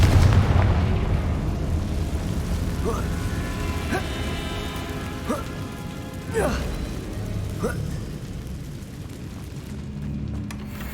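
A Confringo blasting spell goes off in the Hogwarts Legacy video game: a deep boom opens, then ringing magical tones and several sharp bursts follow over a low rumbling game backdrop.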